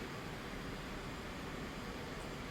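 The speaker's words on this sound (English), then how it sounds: "I'm pushing my throttle forward." F/A-18C Hornet jet engine in DCS World throttling up during air refueling behind a tanker, heard as a steady, broadband roar with a constant level and no rising swell, filling the whole moment without speech.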